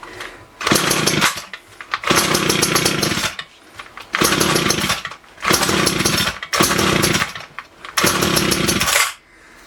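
A small gasoline engine that still needs carburetor adjustment revs loudly and close in six surging bursts, each a few seconds long, dropping back to a rough idle between them.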